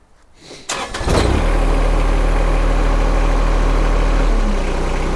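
A John Deere sub-compact tractor engine starts and settles into a loud, steady low diesel idle, close by, with a steady rumble throughout.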